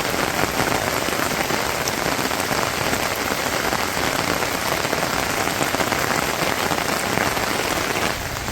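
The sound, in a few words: rain falling on a rooftop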